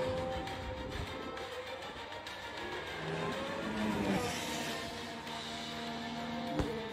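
A Formula 1 car at the Montmeló circuit during pre-season testing, its engine a sustained droning roar with shifting pitch, moderately distant, ending in a brief sharper burst.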